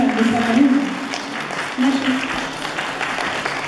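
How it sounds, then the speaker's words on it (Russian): Audience applauding a poet at a celebration, a dense wash of clapping heard under a voice speaking over it for the whole short stretch. "Ваши аплодисменты."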